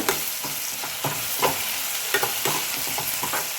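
Chopped onions fry in hot oil, a steady bright sizzle punctuated by regular scraping strokes of a spoon stirring the pan, with no talking.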